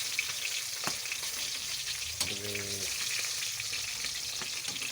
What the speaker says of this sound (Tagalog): Bilis maluto ang luwagang galunggong.